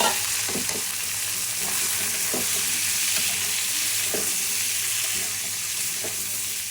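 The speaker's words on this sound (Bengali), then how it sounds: "এই যে পেঁয়াজগুলো ভালোই ভাজা ভাজা হয়ে গেছে" Onions fry in oil while vegetable stalks are added and stirred, a loud steady sizzle with several scraping stirs at irregular intervals, close by and without voices.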